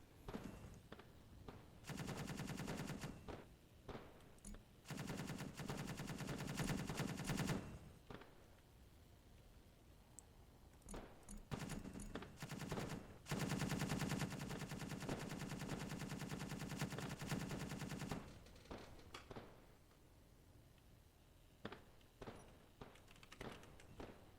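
Bursts of rapid automatic gunfire from weapons mounted on a spider mech in Space Engineers, several sustained volleys separated by short pauses and scattered single thuds, loud and close with no talking.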